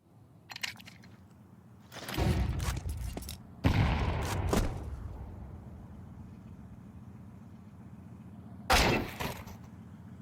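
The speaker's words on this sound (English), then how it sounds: "There we go, finally given a chance to shoot that AWP." Several loud, sharp broadband bursts of AWP sniper rifle fire in Counter-Strike 2 during a PGL Cluj-Napoca 2026 esports match, spaced apart across the clip with low game ambience between them and no talk.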